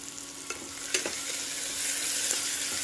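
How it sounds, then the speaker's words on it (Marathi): Chopped onion with a pinch of salt sautéing in a pan, a steady close sizzle with a few faint stirring scrapes, no voices. "1-2 मिनिट कांदा छान परतून घेऊया।"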